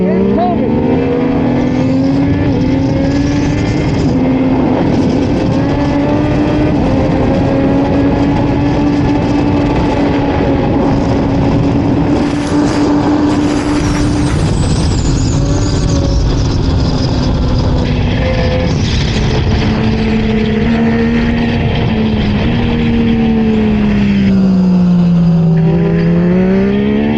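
A Yamaha R9 race motorcycle run by 2WDW roars loudly through a circuit, its engine pitch climbing and falling through gear changes as it passes close. Other bikes join the din, and a commentator talks over the noise.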